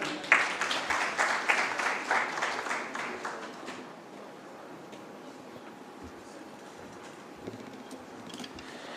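Audience applause at an outdoor launch event for a Green Climate Fund project on the Upper Athi River, a dense patter of clapping for about four seconds that fades into quiet ambience with faint distant sounds.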